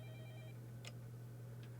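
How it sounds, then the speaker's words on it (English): A home telephone rings faintly from elsewhere in a house in the Fate/stay night Remastered video game, a soft electronic ring over a steady low hum. "Oh, the phone's ringing?"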